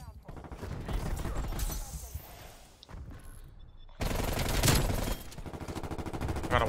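Rapid bursts of DMR rifle fire in Call of Duty Cold War, dense and loud, layered with other in-game gunfire and impacts while a voice talks over the action.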